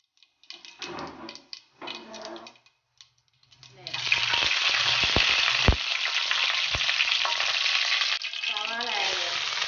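Sliced onions hit hot coconut oil in a pan for a Kerala-style chicken thoran, setting off a loud, steady sizzle after a few quiet clinks. The frying stays continuous to the end, with a brief stir or scrape near the close.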